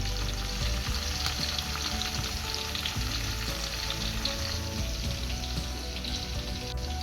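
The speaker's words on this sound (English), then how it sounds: "we're gonna take out the fermented fish omomone" Fermented salted fish (abomu/omomone) sizzles and fries steadily in a pan of sauce, a dense continuous crackle with faint stirring, close and alone without speech.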